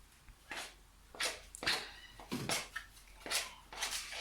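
Cookie dough ingredients are mixed by hand in a home kitchen, giving a series of soft scraping and thudding strokes in an irregular rhythm, close and fairly quiet.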